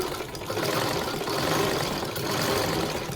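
A domestic sewing machine fitted with an embroidery plate runs continuously, stitching embroidery on a blouse. Its steady, close motor whir and rapid needle chatter hold an even level throughout, with no talk.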